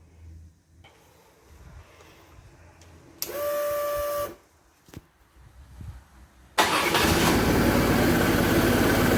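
A BMW R1100 motorcycle engine, run briefly during an oil change, starts with a brief whine, then after a pause roars up and runs steadily and loudly to the end.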